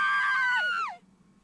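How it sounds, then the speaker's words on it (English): A single long scream in The Hundred Line -Last Defense Academy-, loud and sustained, bending downward and cutting off abruptly into near silence. "All of a sudden, I could hear screaming."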